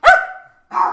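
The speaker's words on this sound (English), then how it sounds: "You hear 3 small dogs." Small dogs barking in two quick bursts, the first a sharp high yap and the second a rougher bark after a short pause, loud and close with no talk.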